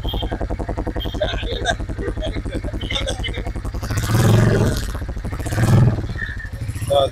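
A Royal Enfield motorcycle engine started and run, thumping steadily with two strong revs partway through, while people talk over the running engine.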